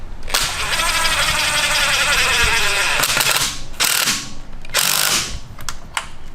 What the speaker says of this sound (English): we're gonna run this bolt in here with a bunch of spacers, and I mean a bunch of spacers, and we tighten it down